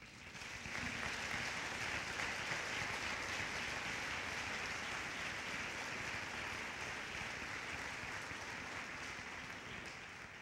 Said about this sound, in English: We'd like to get a photo and a round of applause.